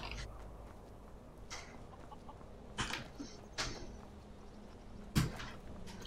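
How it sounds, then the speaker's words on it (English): Chicken clucking in the video game Skyrim: a few short, scattered clucks and squawks over a quiet ambient background, moderately near with gaps between calls. "I hear a chicken, which means there's a chicken's nest to harvest."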